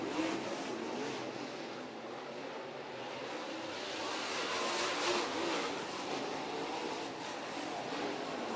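Modified race cars lapping a short track during an East Bay WinterNationals B main, a steady roaring engine drone that swells slightly midway as cars pass, with no talk.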